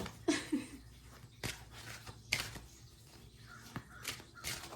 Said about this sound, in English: The birds have something to say as well.